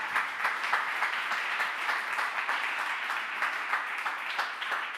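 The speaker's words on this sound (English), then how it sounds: "So I ask you the last round of applause for the startups and the SMEs that today presented" Conference audience applause for presenting startups and small businesses at a food matchmaking and impact investors event, a steady crisp clapping that continues without talk, moderately distant.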